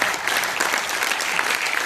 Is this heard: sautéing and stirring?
no